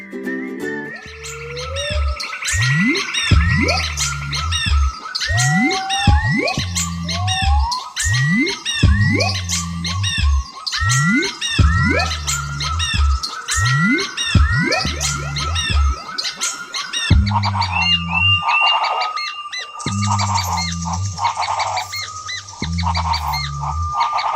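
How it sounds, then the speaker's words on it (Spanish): A musical piece is built from the songs of endemic and threatened Colombian birds. Repeated chirps, whistles and trills are layered over a rhythmic low beat and change partway through, all clear and prominent. "una pieza musical compuesta por diversos cantos de aves endémicas y amenazadas de Colombia"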